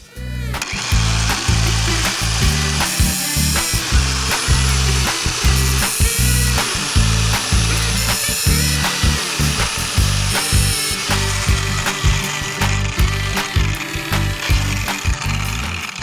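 A steady, loud whirring angle grinder grinds continuously with rapid repeated bursts as it sharpens the teeth of a chainsaw chain, close up with no talking.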